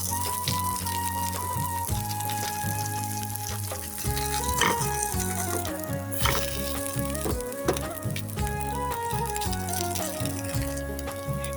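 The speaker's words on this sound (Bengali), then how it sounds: "আমি সুন্দর করে কিন্তু এপিট উপিট করে নাস্তাটি ভালো করে একটু লাল লাল করে ভেজে নিব।" A breakfast snack of flour and onion frying in a small amount of oil, a steady crackling sizzle with a few sharper pops, partly masked by a tonal background layer that sounds like music.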